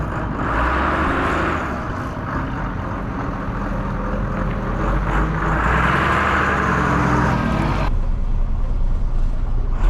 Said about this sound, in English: So let's take you with us on a drive in the Dennis DS